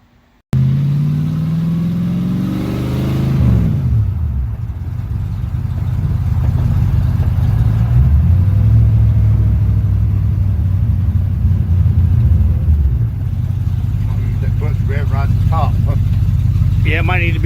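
An old Ford Mustang, driven for the first time in decades, rumbles steadily with a deep engine note and a revving swell early on, loud and close throughout.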